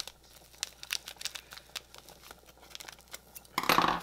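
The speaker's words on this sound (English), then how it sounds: "This is really hard plastic to open." Hard plastic packaging of a seasoning packet is cut open, giving scattered crinkles and snips at close range, then a louder burst of rustling at the end.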